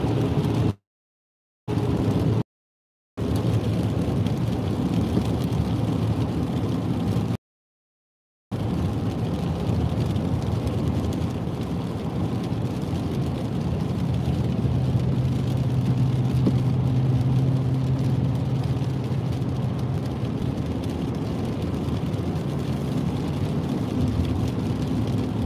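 A car cruising on Highway 3 toward Hope and Princeton gives a steady whirring road and engine drone throughout, with a few brief dropouts near the start and a low hum building midway.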